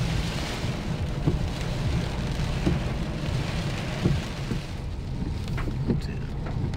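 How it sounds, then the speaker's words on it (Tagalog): Heavy rain and wind on a road trip up in the hills near Infanta, Quezon, a dense, steady hiss of pouring rain with gusty low rumble and scattered sharper drops, constant throughout and without voices. "Talagang malakas yung ulan na yun, halos Hangin, ang hangin din."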